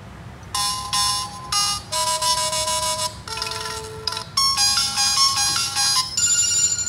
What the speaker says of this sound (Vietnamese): Giờ mình mở nhạc chuông nè.